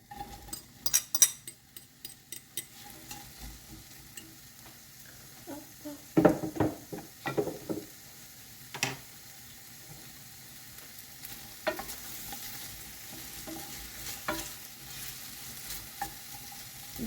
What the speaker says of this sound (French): Faites-y revenir l'oignon 2 à 3 minutes.